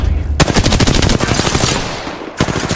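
Rapid automatic gunfire in the battle royale shooter Apex Legends, a loud sustained burst of close shots that stops briefly near the end before firing resumes.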